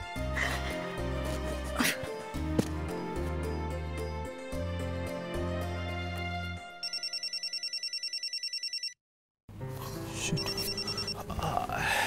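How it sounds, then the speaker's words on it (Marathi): A telephone rings in a rapid electronic trill for about two seconds after a stretch of loud dramatic music, then falls silent before the music resumes. "नशीब बाबा फोन उचलला एकदाचा."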